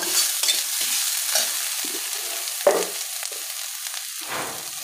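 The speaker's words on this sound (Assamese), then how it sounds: "গোটা জিৰাকেইটা দি ভালকৈ ভাজি" Whole cumin seeds fry in hot oil in a pan, giving a steady sizzle broken by scraping stirs and light clinks of the spatula, heard close and alone.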